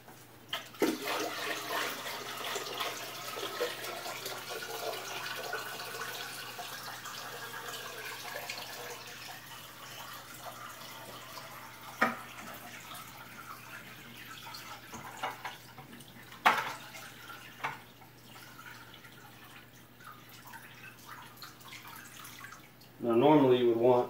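Water is poured back into a home fish tank during a weekly water change, a faint, steady splashing trickle that fades to near quiet, with a louder gush of water at the very end.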